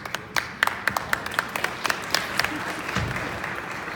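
An audience claps in a room, sharp scattered claps that come in a quick run and then taper off into a quieter murmur, moderately near.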